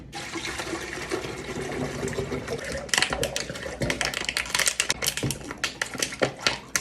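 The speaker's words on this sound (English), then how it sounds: "we're gonna start with the pitcher and we're gonna put water in here first" Water poured from a tap or bottle into a pitcher, a steady broadband splashing and rushing that grows busier and more sputtering toward the end, close and fairly loud with no voices over it.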